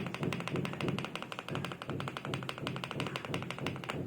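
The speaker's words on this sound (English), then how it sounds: "This spacebar has no rattle" Rapid, even taps on the spacebar of a Lingbao K87 budget aluminium mechanical keyboard, a dense run of close, crisp clicks with a low thocky body and no rattle, heard alone.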